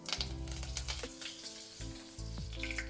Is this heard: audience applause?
no